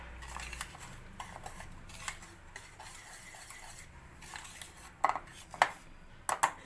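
Homemade cake batter stirred in a bowl, soft continuous scraping and swishing with a few sharper clinks of the utensil against the bowl near the end, close and without talk.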